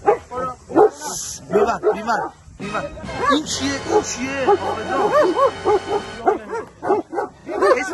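A Dalmatian dog at a zoo barks and yips in repeated bursts, loud and close, mixed with people talking over and between the barks.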